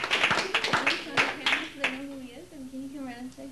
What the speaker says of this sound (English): We'll give him a big round of applause here for helping us.